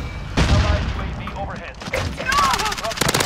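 An incendiary-round shotgun in a G2 Jäger tactical shooter game fires in heavy booming blasts mixed with rapid gunfire. A voice talks over the shooting.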